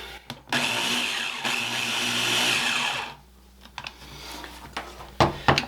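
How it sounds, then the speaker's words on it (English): A Ninja blender mixing ingredients with salt runs loud and steady for about two and a half seconds with a harsh whirring roar, then cuts off, leaving clatter and small knocks. "I'm just going to put this in our Ninja here and just run it until it's just good and combined here"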